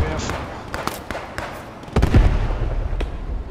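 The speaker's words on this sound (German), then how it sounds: "Versuche eine Granate zu werfen." Grenade blast in the Post Scriptum war game on the Arnhem map, preceded by several sharp distant gunshot cracks, then a heavy low boom that rumbles and lingers; voices and radio chatter sit underneath.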